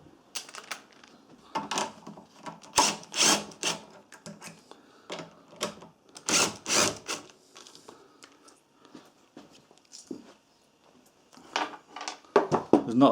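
Metal clicks and ratcheting taps from a wrench loosening the 10mm carburetor nuts on a Honda GX-style small engine, coming in irregular close bursts with brief pauses and no talking.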